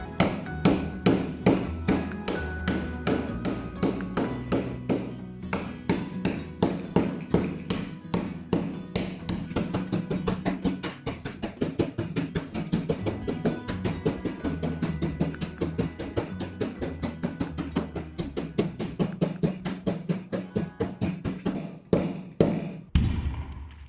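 A hammer pounds Oreo cookies sealed in a bag, a long run of rapid, steady thuds and taps at close range, with a few brief pauses and quicker strikes near the end.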